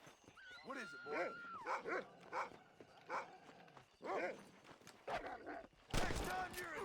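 A dog in the video game Red Dead Redemption barks and yips in a string of short bursts, with whimpering tones and other game noise rising toward the end, while voices talk over it.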